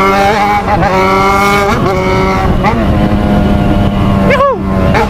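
Loud, close motorcycle engine revving in rising and falling bursts, whining up in pitch and dropping back, with voices talking over it.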